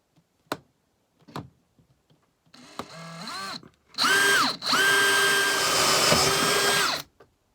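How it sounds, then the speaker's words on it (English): A power drill whirs in short bursts, then runs steadily as a 16mm hole saw cuts through a caravan panel, with a few knocks and clicks before it starts. "I'm going to drill a 16mm diameter hole with this hole saw"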